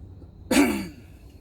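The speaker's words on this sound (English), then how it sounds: "Excuse me if I keep coughing a little bit." A single short cough bursts out, close and fairly loud, with a throaty, rough edge, then fades into quiet room noise.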